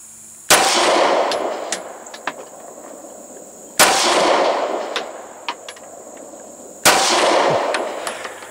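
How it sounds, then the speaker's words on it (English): Three loud, sharp pistol shots from a Kel-Tec PF9 9mm, spaced about three seconds apart, each followed by a long echoing decay and small metallic clinks, heard up close with no talk. "that's 50 more shots with the Kel-Tec pf9"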